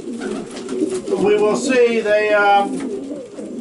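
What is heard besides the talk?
racing pigeons cooing in loft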